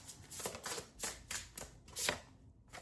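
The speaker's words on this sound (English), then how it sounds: "I'm gonna pull 2 more cards here" Tarot cards being shuffled in a series of quick riffling bursts, about six close, crisp flurries with brief gaps between, with no voice over them.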